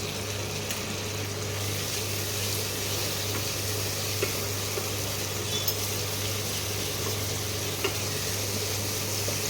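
Spice paste cooking down with curd and green chili paste in hot oil makes a loud, continuous close sizzle with occasional light stirring clicks, no voices over it.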